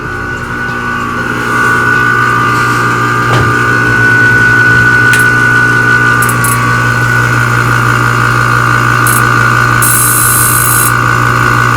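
Homemade high-voltage power source sparking under poor vacuum instead of making plasma: a steady electrical hum and drone with brief crackling discharges, close and continuous, with no talk.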